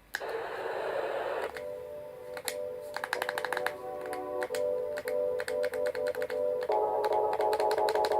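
Repeated plastic button clicks on a Sharper Image sleep machine, each one switching between different steady tones and hums, the clicks coming in quick irregular runs.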